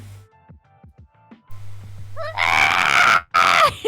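A person voices a harsh, rising mechanized Godzilla-like screech after some low clicking and rumbling, the imitated roar swelling loud and breaking off once before resuming.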